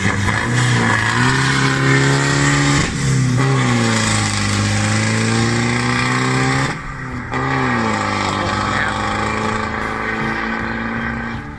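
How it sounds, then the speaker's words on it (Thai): A loud, raspy diesel exhaust from a turbocharged Chevrolet Colorado Z71 pickup with a straight pipe and no muffler revs up and holds high, dips briefly, then climbs again, with a deep rumble and no muffling. "เสียงท่อ BS นะฮะ อันนี้ไม่มีหม้อพักนะเทอร์โบแปรผันนะครับ"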